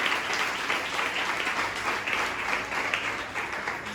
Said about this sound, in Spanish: Más fuerte ese aplauso a mi Dios.